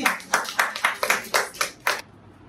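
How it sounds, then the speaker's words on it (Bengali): A short burst of hand clapping for Zaman uncle at a home birthday gift opening, about eight sharp claps in an uneven rhythm from a few people nearby, stopping abruptly. "সবাই একটু জামান আঙ্কেলের জন্য হাততালি"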